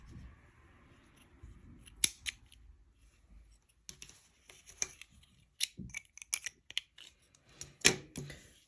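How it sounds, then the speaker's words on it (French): Scissors snipping crochet yarn at close range, with a few sharp cuts followed by a cluster of crisp clicks and light rustling near the end. "Vous pouvez maintenant retirer le crochet, couper le fil"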